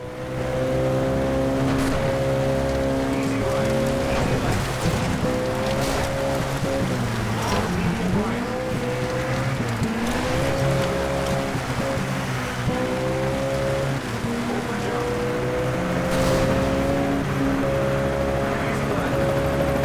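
A Citroen rally car in Sega Rally Revo drones with a steady, loud engine note that rises and dips with the revs, running continuously while someone talks over it.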